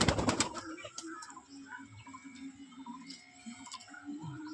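Domestic pigeons coo softly inside a pigeon house, low repeated throaty calls rising and falling, with a burst of wing flapping at the very start and faint ticking in the background.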